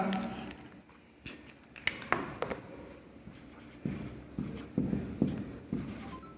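Pen on paper during a class 10 maths lesson, with intermittent soft scratchy writing strokes and taps, fairly close and quiet, with no one talking over it.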